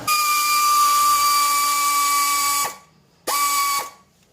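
A power tool spins loudly and steadily with a high whining tone while loosening a 14mm bolt near the alternator idler pulley, stops abruptly, then gives a second short whirring burst.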